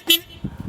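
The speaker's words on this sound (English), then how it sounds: "And a horn." A forklift's horn gives one short, bright toot near the start, followed by quiet low rumbling.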